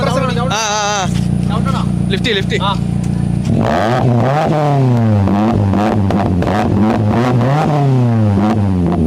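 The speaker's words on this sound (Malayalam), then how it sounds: "ഇത് പഗ്ഗിന്റെ സൗണ്ടാണ് നിങ്ങൾ കേട്ടത്" A modified car in a driving video game, the Pug, revs hard in repeated rising and falling bursts. The engine sounds loud and close under steady talk.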